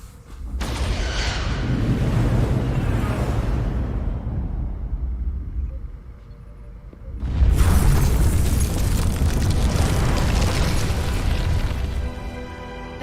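Starship weapons fire and explosions in Star Trek: Resurgence, two long loud rumbling blasts, the first fading out over several seconds before a sharp second burst kicks in and rolls on heavily to the end.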